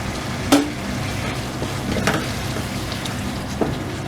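Ajwain seeds frying in hot oil, a soft continuous crackle and sizzle close by, punctuated by a few light knocks of a spoon against the pan.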